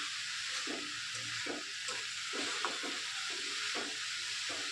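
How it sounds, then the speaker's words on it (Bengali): Red amaranth greens (laal saag) fry in a pan with a constant hiss, while a utensil stirs them in a steady rhythm of soft scraping strokes, close and fairly quiet, with no talking. "শাকটা আমার আস্তে আস্তে নরম হয়ে আসছে এইভাবে কিছু সময় নাড়াতে হবে"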